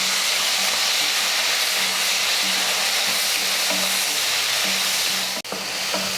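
Tomato sautés with onion and garlic in a pan, giving a dense, steady, hissing sizzle that stays loud throughout, broken near the end by a brief clunk and a short dip.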